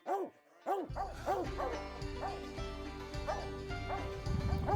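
A hunting hound bays repeatedly at a raccoon treed in woods, giving loud, rhythmic barks and yips in a steady chorus; the calls are close, with a faint background drone between them.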